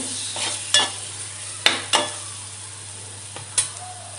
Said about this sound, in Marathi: आता यामध्ये मी थोडीशी कोथिंबीर ॲड करणार आहे आणि कोथिंबीर ही थोडी मिक्स करून घेणार आहे